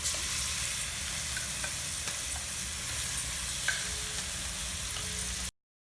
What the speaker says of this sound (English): I have lowered the flame and just stir it for a couple of minutes